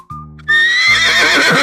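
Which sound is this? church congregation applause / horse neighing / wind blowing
horse neighing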